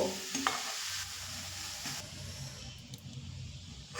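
Cabbage gets stirred with salt, turmeric and spices in a pan, giving a soft sizzle with scraping spatula strokes and a few light clinks, quiet and close.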